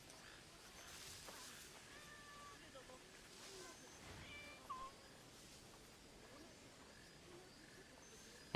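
Cat meows in Assassin's Creed Shadows, a few short high calls rising out of a steady background of game ambience and faint murmur, moderately quiet and somewhat distant.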